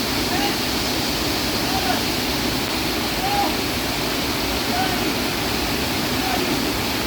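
A loud, roaring waterfall fills the scene with a steady, dense rush of falling water that never lets up, close and overpowering.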